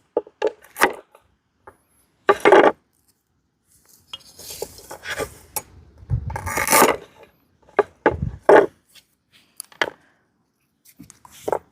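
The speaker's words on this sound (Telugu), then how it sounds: "ఇప్పుడు ఏదో తేగలనే చిన్న చిన్న ముక్కలు కొద్దాం" Boiled palmyra sprouts being cut into small pieces for a biryani, with scattered knife taps and scraping strokes on a board in short irregular bursts separated by silences.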